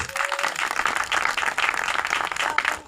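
Energetic audience applause at a church service, many hands clapping in a continuous, fairly loud wash that swells and fades slightly throughout.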